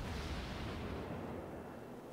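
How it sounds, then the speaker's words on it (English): Battleship main guns firing in World of Warships, a heavy, loud low boom that rolls out and slowly decays into rumbling over about two seconds. "That's a lot of big angry ships shooting at me."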